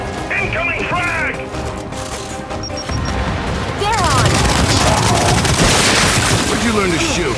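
A frag grenade blast in the shooter Gears 5 during a Horde match on the Atrium map, a loud burst of crashing and crackling amid rapid gunfire, continuing as a dense roar of combat.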